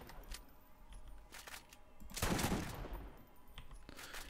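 A gun shooting in the Borderlands video game, quiet scattered shots with one louder burst near the middle, faint overall.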